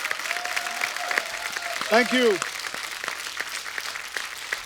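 A studio audience on the Kapil Sharma Show, an Indian comedy talk show, claps in a steady, moderate wash of applause while people talk over it.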